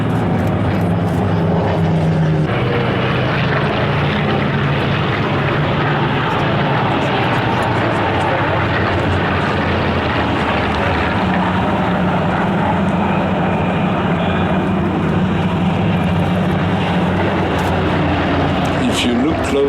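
Clipped-wing Spitfires fly at the Flying Legends air show, their piston engines giving a steady, loud, continuous roar that swells and drones throughout, with someone talking over it.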